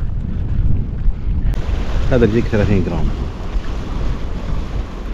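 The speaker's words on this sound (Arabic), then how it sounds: "ولا في هواء قوي،" Strong seaside wind buffets the microphone with a steady low roar throughout, while someone speaks briefly in the middle.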